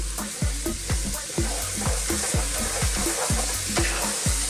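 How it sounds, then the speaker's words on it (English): Chopped onions fry in about 300 ml of olive oil over fairly low heat for an Ethiopian doro wat chicken stew, a steady close sizzle broken by regular scraping stirs roughly every half second. "we're going to cook just the olive oil and the onions for about another 20 minutes"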